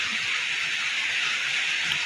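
Steady soft hiss of light rain falling, even and continuous with no other sounds.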